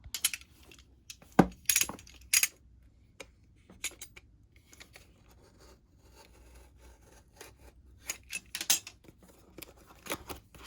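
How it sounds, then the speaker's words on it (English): A Samsung T5 Evo portable drive's box is opened up close, with scattered scrapes, rustles, soft taps and small clicks in irregular bursts and quiet gaps between them, and no one talking. "So now let's get to opening up the box."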